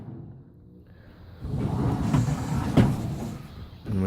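A fridge slide in a Titan ute drawer system is pulled back, giving a rolling metallic rumble that builds after a quiet start, with a clunk near the end, close and without talking.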